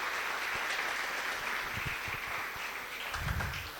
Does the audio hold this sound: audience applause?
yes